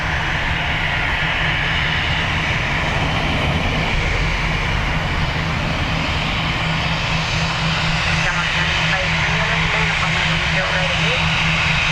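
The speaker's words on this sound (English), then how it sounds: "when we have the aircraft this close, I tend to stay that little bit quiet, because you won't hear me anyway" Airliner passing close over the Dublin Airport runway 10R, a loud, steady engine roar filling the whole stretch with only slight swells, and a faint voice briefly underneath.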